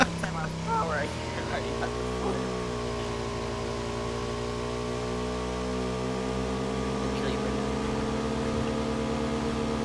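Motorcycle engine in PUBG holds a steady, loud drone with rising pitch through a wheelie, running continuously for about ten seconds while a player talks excitedly over it.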